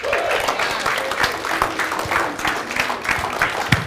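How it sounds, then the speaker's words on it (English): A seminar audience gives a round of applause, dense clapping from many people with a few voices mixed in, continuous and moderately loud throughout. "So big round of applause, Shaqir Hussyin."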